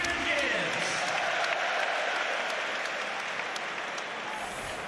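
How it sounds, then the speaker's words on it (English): Arsenal home crowd at a Premier League football match against Manchester City applauding a substitute coming on, a broad distant wash of clapping with crowd noise and a commentator talking over it. "Comes on for Joel Campbell, who's very worthy of the applause he's getting from the Arsenal faithful here."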